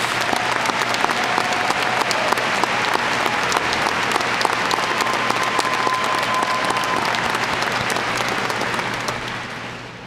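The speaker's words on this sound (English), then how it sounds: "would you please stand and y'all join me in applauding the outstanding achievements of these outstanding 16 students" Sustained applause from a high school graduation audience in South Carolina, a dense wash of many clapping hands that carries on evenly for about ten seconds before tapering slightly.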